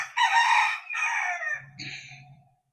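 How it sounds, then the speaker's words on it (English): Rooster crowing loudly and close, a long drawn-out call followed by shorter clucking from chickens, heard alone outdoors in a farm-like setting. "There are lots of roosters here, lots of chickens."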